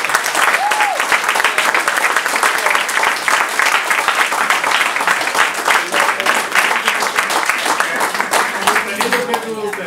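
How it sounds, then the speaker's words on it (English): Audience applauding a man who has just been called to stand up at a motivational event, dense and sustained clapping close and loud throughout, with a brief voice rising over it near the start. "Give my man a round of applause."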